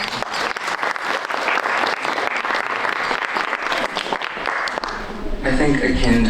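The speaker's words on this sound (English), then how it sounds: "A round of applause, please." A symposium audience breaks into sustained, dense applause at close range, the clapping staying strong throughout and swelling slightly near the end.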